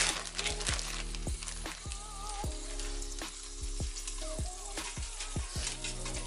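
Ground sautéed onions sizzle steadily and loudly in a hot pan, a dense continuous crackle with scattered pops and a few faint tonal background hums, no talking.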